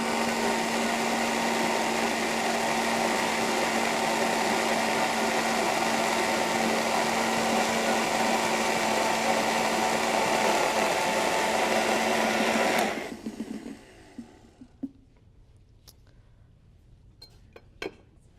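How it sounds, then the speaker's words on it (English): A blender whirs steadily at high speed through pumpkin and dates, a loud continuous roar for about thirteen seconds that cuts off abruptly, followed by quiet clinks and small handling sounds. "this is a lot of volume for the blender to do"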